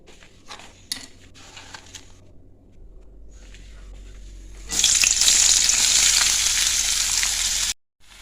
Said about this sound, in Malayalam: ഇനി ഉള്ളി ഇട്ട് കൊടുക്കട്ടെ.